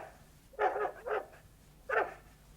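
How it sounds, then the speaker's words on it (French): A dog barking three times, two quick barks close together then a third after a pause, moderately near against a quiet background. "j'aime pas beaucoup entendre aboyer."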